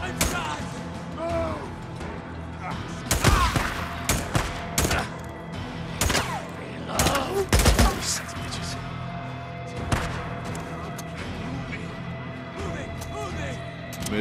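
Gunfire in the open-world survival game Days Gone: scattered sharp shots and bursts ring out in clusters, some loud and close, over steady ambient game noise, with a voice shouting and talking in between.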